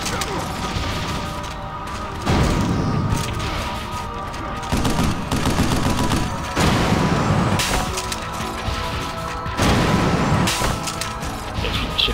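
Shotgun blasts in the Vanquish shooter game, a series of heavy booming shots spaced a second or two apart amid crashing debris and battle noise, with voices talking over the combat.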